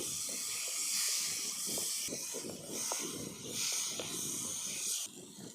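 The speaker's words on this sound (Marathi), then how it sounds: "आता याच्यामध्ये टाकायचं टोमॅटो टोमॅटो पण मस्त परतून घ्यायचे आता" Onion and tomato sautéing in a hot pan, giving a steady close hiss of frying with soft irregular crackles and occasional stirring taps, constant and fairly loud throughout.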